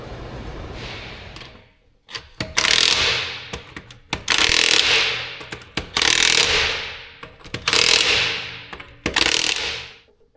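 Bolts on the front caliper covers of a 2018 Dodge Durango are tightened with a hand ratchet, giving five loud, close bursts of rapid clicking with short pauses between them.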